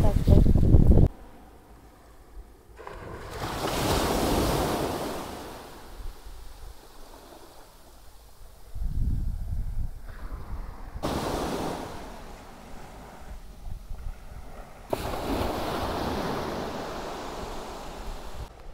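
Sea waves wash onto the Konkan seashore at Malvan, where shellfish are gathered, in broad rushing surges that build and recede several times, mixed with wind buffeting the microphone and a brief voice.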